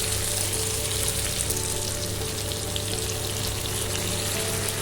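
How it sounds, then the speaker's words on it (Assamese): Broiler chicken meat fries with bhedailota leaves in a pan, giving off a dense, even sizzle that stays loud and constant with no talking. "এতিয়া মাংসখিনি ভালদৰে ভজা হৈ গ'ল ধুনীয়াকৈ ভাজি খাইছে"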